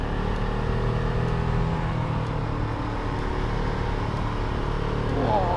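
Husqvarna Vitpilen 701 motorcycle ridden into a corner, its engine a steady, loud, close drone with wind rush and a slight rise in revs at the end, while a rider speaks over it.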